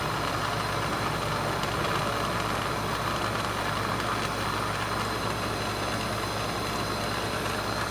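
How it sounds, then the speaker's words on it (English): An exhaust fan runs in a jewelry workshop, giving a steady, loud, continuous mechanical drone with a low hum beneath a broad airy whoosh, unchanging throughout. "Forgot to turn on the exhaust."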